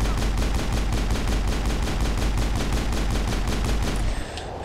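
Rapid sustained gunfire in Mass Effect, shooting at gangly bugs in an acid rift: a loud, dense stream of automatic shots hammering evenly for about four seconds, then cutting off abruptly.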